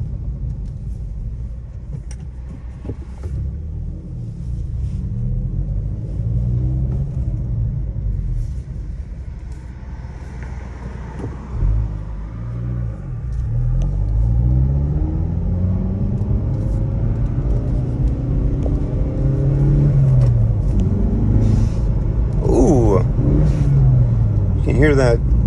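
A Hyundai Veloster N's small turbocharged engine rumbles from inside the cabin on a test drive, swelling and easing as the car accelerates, with someone talking over the engine throughout.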